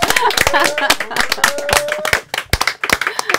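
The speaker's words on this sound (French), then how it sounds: "Alors ça mérite quand même tous vos applaudissements." Studio audience applause on a French television show, brisk, loud clapping from a crowd with sharp individual claps standing out, and a few voices mixed in.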